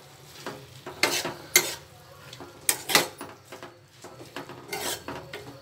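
A spoon scrapes and clanks against a pan as chopped tomatoes with salt and turmeric are stirred for tomato gojju, several sharp metallic knocks amid a soft sizzle, with no talking.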